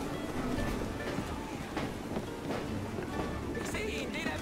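Train rumbling along in Assassin's Creed Syndicate, a steady broadband rolling roar with windy noise throughout, steady and fairly close, with faint talk over it.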